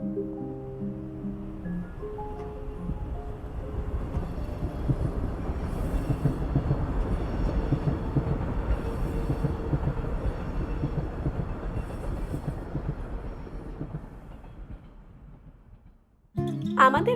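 A train travels from Uttarpara to Chinsurah with a continuous loud rumble of wheels and carriages. The rumble swells through the middle, then fades away before a sudden louder burst of sound at the very end.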